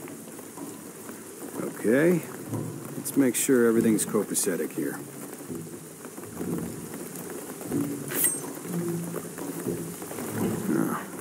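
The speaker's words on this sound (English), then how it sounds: "What I'm telling you is the rain is gonna flood it." Steady rain falling in a video game, a soft continuous patter heard under someone talking while he plays.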